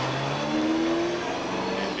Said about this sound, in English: Joe Bowser will make his parade lap